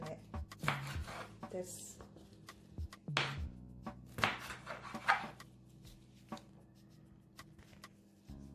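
A knife slices through chicken breast for a stir fry, making soft, irregular cuts and taps against a board, with clinks between strokes and a voice speaking briefly.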